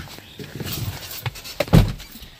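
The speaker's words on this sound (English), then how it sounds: "close my door." A truck door swings shut with a solid thunk near the end, preceded by faint shuffling and handling sounds close by, no voices.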